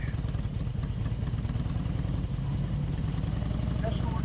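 A motorcycle engine thrums with a steady low rhythmic pulse while riding on a cold day with snow threatening, heard up close and constant, with wind rush and a faint voice underneath.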